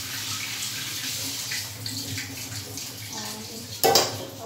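Rice being rinsed in water at a kitchen sink, with sloshing and light clinks of a pot or dishes, close up, ending in a brief louder splash near the end.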